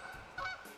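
Geese honk in a brief burst, two or three nasal calls in quick succession, fairly close and clear with no talk.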